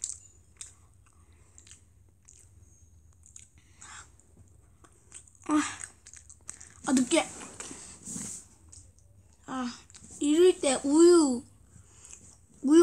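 A child chews cheese from a salad in a close, quiet recording, with soft wet bites and crunchy mouth sounds coming in irregular bursts, some louder clusters toward the end, and faint vocal sounds mixed in.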